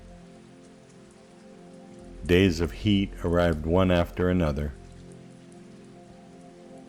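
Steady rain falls as a soft, even hiss through the whole stretch, while a calm voice narrates over it in the middle.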